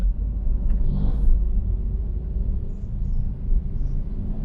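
A 2021 Honda City RS CVT rolls over a poorly paved, bumpy road, heard from inside as a steady low rumble of tyres and road noise with a few dull thumps from the bumps.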